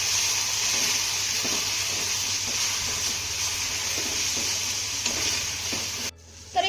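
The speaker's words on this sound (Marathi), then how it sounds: "आता हा टोमॅटो देखील आपल्याला मौसूद होईपर्यंत छान असा परतून घ्यायचा आहे" Finely chopped tomato sautés in a pan with a continuous loud sizzle and faint stirring scrapes, which cut off abruptly near the end.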